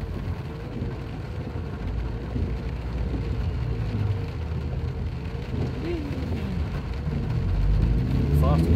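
Car driving through a flooded road during heavy summer rain in England, a steady engine and water-wash roar that swells louder toward the end, with voices talking over it.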